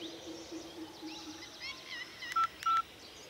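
Telephone keypad tones sound twice in quick succession, two short clear beeps standing out over faint background chirping and a soft low hum.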